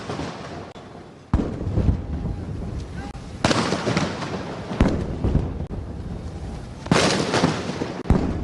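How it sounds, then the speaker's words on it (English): Ceremonial gun salute at a presidential welcome ceremony with a military guard of honour: several loud, sharp booms spaced a few seconds apart, each followed by a rolling echo over steady crowd and outdoor ambience. "The President also received a gun salute."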